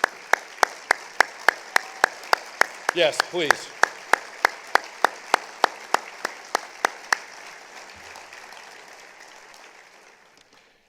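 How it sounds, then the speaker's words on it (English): Sparse, widely spaced clapping rings out at a county forum as a room applauds veterans: distinct single claps in a slow, regular series, with a brief spoken reply in the middle, fading into quiet room noise near the end. "I invite all the veterans in the room to stand and give them applause."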